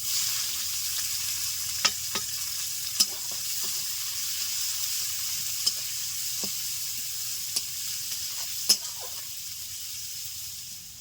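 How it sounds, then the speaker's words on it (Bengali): Two medium chopped onions fry in a pan for a village-style banana flower dish. The oil gives a steady, even hiss, and a spatula stirring through it makes occasional sharp clicks and taps. "পেঁয়াজ দেওয়ার পর দু মিনিট মতো নেড়ে চেড়ে নিয়েছি"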